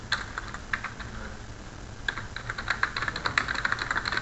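Computer keyboard keypresses as Ctrl+A is pressed while using spreadsheet software, a handful of light clicks near the microphone, sparse at first and then quicker toward the end.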